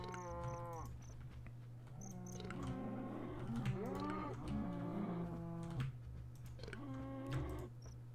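Cows low repeatedly in Minecraft's TerraFirmaCraft mod: several drawn-out moos, some overlapping, sound at a modest level over a steady background hum and faint clicking.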